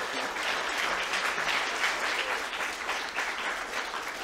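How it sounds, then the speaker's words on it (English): Audience applause for a volunteer at a lecture, a sustained, even wash of many hands clapping throughout, moderately loud and without speech over it. "And we can get a round of applause for our volunteer here."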